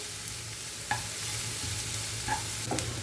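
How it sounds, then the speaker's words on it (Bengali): Onion frying in a pan until soft for a Bombay duck fish dish, a continuous soft sizzle broken by a few spatula scrapes and taps against the pan. "প্রথমে ভেজে নেব পেঁয়াজটা যতক্ষণ না নরম হচ্ছে ততক্ষণ আমি ভেজে নিচ্ছি"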